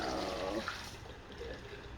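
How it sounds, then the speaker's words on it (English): Water poured out of a measuring container in a lab: a loud, splashing gush at the start that thins into a weaker, trailing spill over about two seconds. "what I'm going to do is I'm going to pour this out"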